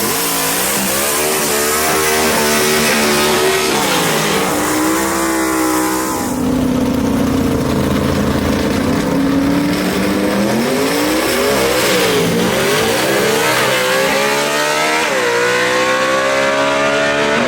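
Gasser drag racing cars launch at Mooresville Dragway, loud engines revving hard with rising and falling pitch sweeps as they accelerate, a continuous close roar with no voices.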